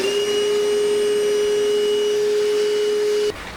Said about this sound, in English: This is our time to grab our Milwaukee M18 shop vac.